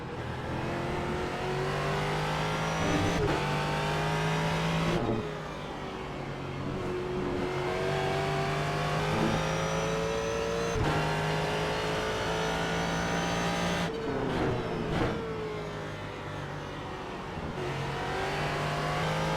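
A Ford GT race car engine howls in iRacing, rising through the revs and dropping sharply at each upshift and braking point, loud and continuous from the cockpit, with no speech.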